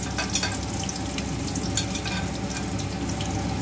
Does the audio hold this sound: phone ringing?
no